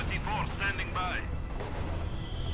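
Mortar shells land in a Company of Heroes 2 battle, a low continuous rumble of distant impacts running under a voice through the clip.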